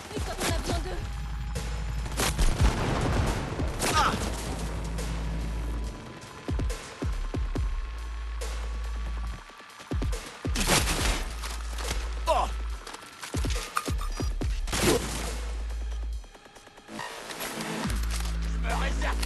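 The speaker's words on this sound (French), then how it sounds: "J'ai entendu des coups de feu." Gunfire in Cyberpunk 2077 on Xbox Series X, scattered loud shots and bursts with booms and impacts, mixed with footsteps and game music, while characters speak in French.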